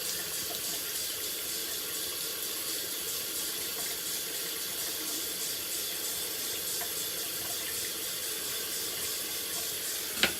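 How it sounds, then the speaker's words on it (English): Water runs steadily from a tap during a straight-razor shave, a constant hiss and splash at moderate level with no talk over it. "A little bit more water."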